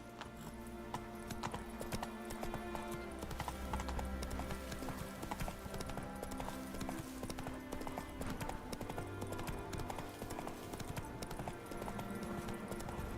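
Roach, the horse in The Witcher 3, gallops in a steady clip-clop rhythm of hoofbeats over a bed of game music, with a brief neigh and no speech.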